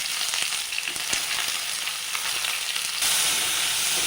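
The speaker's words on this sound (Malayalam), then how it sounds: "ഇനി അതിലേക്ക് 2 സവാള ചെറുതാക്കി അരിഞ്ഞത് ഇട്ട് കൊടുക്കാം." Finely chopped onions fry with garlic in a pan, giving a steady, close hiss of oil and sizzle with faint stirring clicks, and the sizzle grows a little louder near the end.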